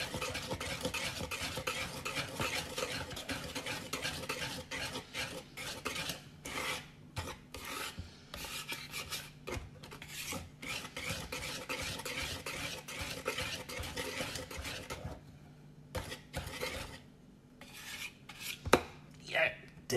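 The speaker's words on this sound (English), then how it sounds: "Gotta keep stirring." Batter being stirred steadily in a bowl, a continuous close scraping and rubbing rhythm that runs almost the whole time, easing briefly near the end, with no talking.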